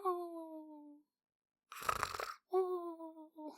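A voice imitates little squirrels snoring at night with short hummed, nasal tones that sound before and after a breathy, rasping snore. The sounds are quiet and close.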